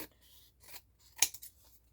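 Scissors snipping around a paper card while making ephemera, a few quiet close cuts spread out with soft paper rustle, one sharper snip standing out, no talking.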